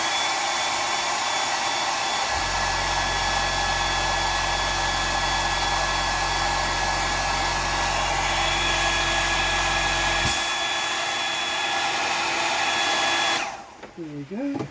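A dryer blowing on fresh paint on a square-bill crankbait fishing lure, a loud steady whirring drone that starts after a couple of seconds, runs without pause and cuts off near the end, followed by faint handling noise.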